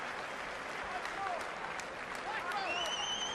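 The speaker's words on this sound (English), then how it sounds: "And well-deserved applause throughout this arena." Boxing arena crowd applauds steadily after a fight, a broad wash of clapping with some whistles, while a commentator talks over it.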